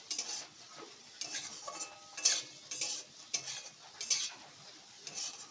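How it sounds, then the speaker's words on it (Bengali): Raisins and cashews frying in ghee in a wok crackle softly while a spoon scrapes and stirs them in repeated bursts, with occasional light metal clinks. "কড়াইতে ঘি দিয়ে তার মধ্যে একটু কিশমিশ কাজু বাদাম দিয়ে ভেজে নিচ্ছি"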